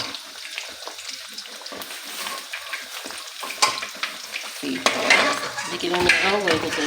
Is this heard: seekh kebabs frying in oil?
yes